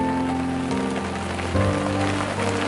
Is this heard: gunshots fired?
no